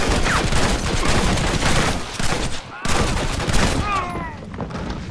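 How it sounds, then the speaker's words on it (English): Sustained gunfire rattles in Red Dead Redemption, a dense fusillade of overlapping shots that drops out briefly near the middle and then resumes with rapid bursts, loud and close. "Why are you shooting at me, Ron?"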